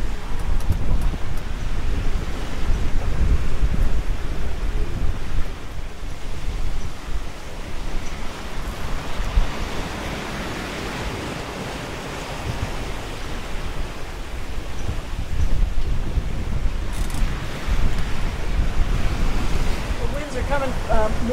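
Wind and waves at sea during a squall on an Atlantic sailing crossing, with a sailboat reefed and motoring along; constant loud roaring gusts and wash of water buffeting the microphone throughout.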